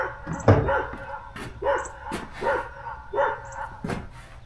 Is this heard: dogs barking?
yes